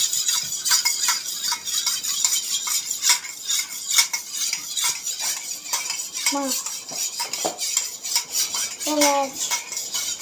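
A spoon stirs and beats egg mixture for Tamil-style egg kalakki in a bowl, giving close, busy metallic clinks and scrapes throughout, with a few brief faint voice-like bursts.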